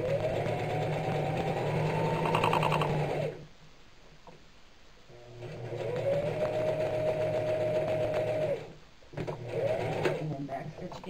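Sewing machine stitching a seam through burlap coffee sack fabric for a clutch, running in three steady bursts separated by brief stops, close and clear with a hum underneath.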